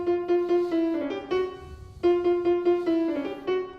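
A solo piano left-hand motif from Liszt's Sonata in B Minor repeats a short pattern of steady struck notes, a mid-range figure played twice in quick succession, clear and unaccompanied.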